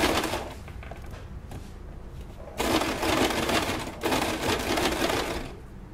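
Sewing machine stitching along the edge of a bra, a loud close mechanical rattle in bursts separated by short pauses.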